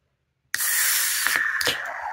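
A can of O'Hara's Nitro Irish Red beer, 4.3%, is cracked open with a sudden sharp pop, then a steady loud hiss of escaping nitrogen gas with a couple of brief crackles, close up.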